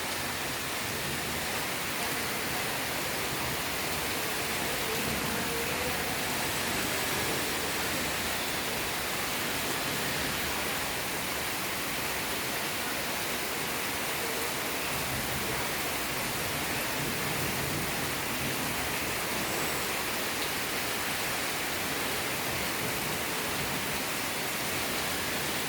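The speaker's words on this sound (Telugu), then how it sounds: "వర్షం అలా పడుతూనే ఉంది కంటిన్యూగా 1 అవర్ నుండి" A heavy, unbroken downpour hisses evenly for the whole stretch, a thick wash of rain noise near a balcony with no voices and no breaks.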